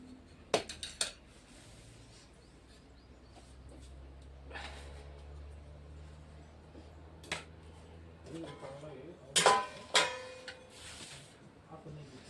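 A kadhai set out for besan batter clinks against utensils while oil is poured in, giving a few sharp metallic knocks and clatters spread over a quiet kitchen background with faint voices.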